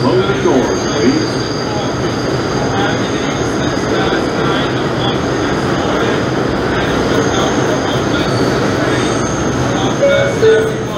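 A Manhattan subway express train rumbles along at speed between 42nd Street and 59th Street, a loud continuous roar of wheels and rails with thin metallic squeals rising near the end.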